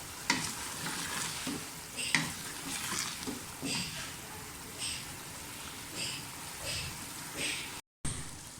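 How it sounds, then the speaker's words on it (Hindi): Lauki gosht, a bottle gourd and mutton curry, frying in a pan with steady sizzling and repeated spoon scrapes as it is stirred, close and fairly loud, with a brief dropout near the end. "और अच्छी तरह से भुनाई कर लें।"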